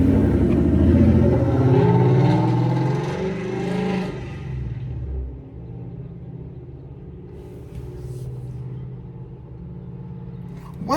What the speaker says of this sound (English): Why is your vehicle so loud?